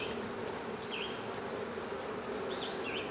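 Honey bees hum in a constant, close drone around hive boxes while nucs are being transferred. A few individual bees whine past as the buzz rises and falls slightly. No voices are heard.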